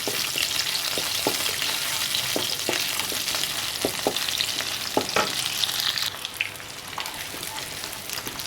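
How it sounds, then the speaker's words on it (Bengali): Chopped onions fry in a home-kitchen pan for a Chinese-style prawn and vegetable dish, a constant close sizzle punctuated by sharp spoon scrapes and taps, easing slightly near the end. "পেঁয়াজ ভাজা হয়ে গেছে"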